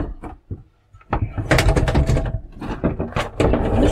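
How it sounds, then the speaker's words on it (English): Plastic sliding shower doors in the compact bathroom of a Eura Mobil Profila T 660 EB motorhome rattle and knock close by, with a few sharp taps and a longer clattering run of sliding movement. "easy to convert with the sliding plastic doors"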